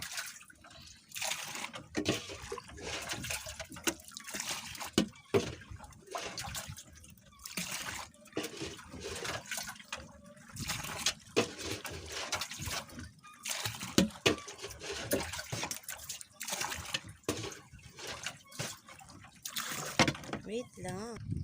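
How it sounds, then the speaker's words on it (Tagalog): Water being bailed by hand out of a small engine boat at night after the motor fails, with repeated splashing and trickling scoops close by, under ongoing talk. "Magbawas tayo ng tubig guys."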